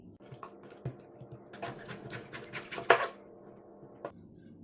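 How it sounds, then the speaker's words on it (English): A knife cuts through a whole raw jackfruit on a kitchen board, giving scattered scraping and chopping strokes with a sharper crunch near the middle, soft and close with no talking. "I'll slice the entire jackfruit."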